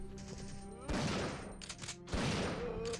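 Two loud gunshot blasts from a shotgun in the Resident Evil 3 arranged mode, spaced about a second apart, each a sharp broadband crack followed by a decaying boom, set against in-game music and ambience.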